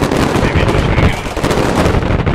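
Loud, dense bursts of gunfire in the military shooter Squad, rapid cracks and booms overlapping throughout with a brief dip midway, close and intense.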